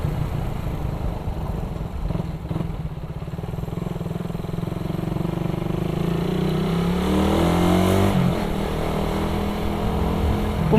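A Suzuki Raider 150 motorcycle engine drones loudly and steadily while riding, its pitch rising as it accelerates through the gears, with a clear shift near the end.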